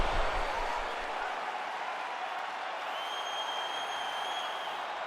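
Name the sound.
UFC arena crowd applauding after a round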